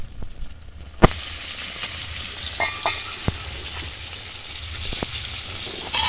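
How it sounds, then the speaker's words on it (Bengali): Small puti fish fry in hot oil in a pan, giving a loud, close, continuous sizzle with a few sharp clicks and scrapes of stirring. "মাছগুলো ভাজা হতে থাকুক"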